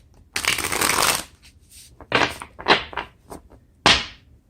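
Tarot cards shuffled by hand before a reading: a long riffling burst, then several shorter slaps and flutters of the deck, close and clear with no talk.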